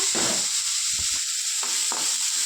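Onions and coriander frying in oil in a kadai, a steady sizzle with intermittent stirring scrapes, close and moderately loud.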